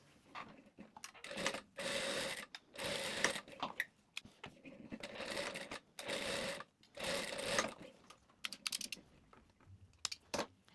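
A sewing machine stitches the waistband of a pair of shorts in bursts of fast, whirring runs, separated by short pauses and light clicks as the fabric is repositioned.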